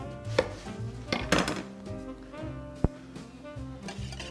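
A utensil clicks and taps repeatedly against a pan while hollandaise sauce is stirred for eggs Benedict, with one sharp knock partway through and music playing underneath.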